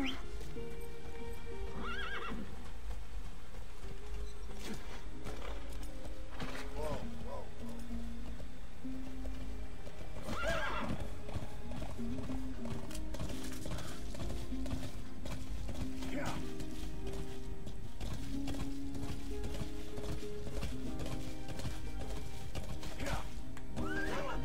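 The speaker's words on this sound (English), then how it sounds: "Well, I guess I can just call the horse." In Metal Gear Solid V: The Phantom Pain, a horse gallops with steady clip-clopping hooves and lets out several loud neighs and whinnies, while a voice talks over it at points.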